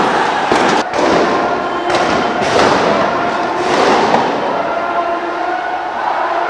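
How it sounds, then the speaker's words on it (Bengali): Gunfire and sound grenades go off during street clashes in Mirpur, loud sharp bangs and thuds cracking out repeatedly over a roaring crowd and outdoor din. "মুহুর্মুহু গুলির শব্দে কেঁপে ওঠে পুরো মিরপুর এলাকা।"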